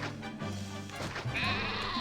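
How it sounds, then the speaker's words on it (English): Sheep bleat from the Caesar 3 city-building game, a couple of nasal, wavering calls rising over a steady game soundtrack, fairly loud and close with no talk. "Time to kill the sheep."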